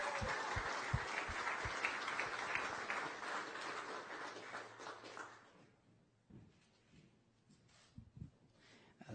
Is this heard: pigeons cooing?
no